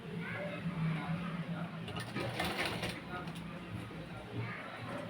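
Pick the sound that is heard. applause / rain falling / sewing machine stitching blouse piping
sewing machine stitching blouse piping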